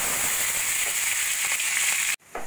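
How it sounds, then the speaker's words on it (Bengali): Chopped garlic sizzles in hot oil in a wok, a steady bright crackling hiss throughout that cuts off abruptly near the end. "কড়াইতে তেল গরম করে দিয়ে দেব 7-8 কোয়া রসুন কুচিয়ে নাও"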